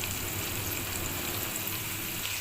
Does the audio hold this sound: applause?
no